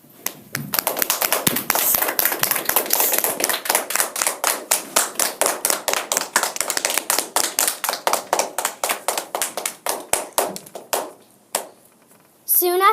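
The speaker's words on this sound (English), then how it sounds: "everyone stands and claps for a long time" A crowd stands and claps at length after Dr. King sits down, rendered as a long run of sharp, close claps that starts dense and thins into a slower, rhythmic beat before stopping.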